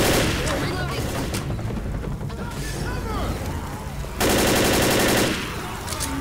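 Rapid gunfire in the Left 4 Dead video game, dense automatic bursts and shots rattling on and off, loud and close, with a sustained heavy burst near the end amid game noise.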